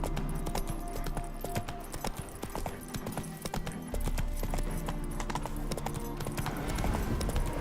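A horse's hooves clip-clop steadily in The Witcher 3, in a rhythmic, continuous trot heard close against a busy game soundscape.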